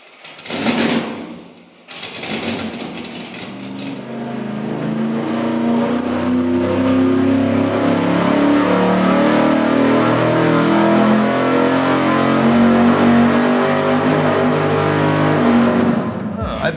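A V8 engine fitted with a cheap out-of-the-box carburetor runs on a dyno. A few short blips give way to a loud, sustained roar that climbs steadily in pitch as the revs rise, and brief talk is heard at the start.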